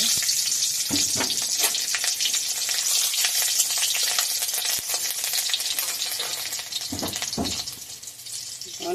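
Nigella seeds and two green chillies hit hot oil for a tempering, a dense hissing sizzle that stays loud and even, with a few brief stirring knocks and no speech.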